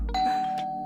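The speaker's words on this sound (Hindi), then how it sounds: "जिंदगी में पहली बार इतना मजा आ रहा है डोरबेल बजने से" An indoor doorbell rings once with a single bright, sustained chime that fades slowly.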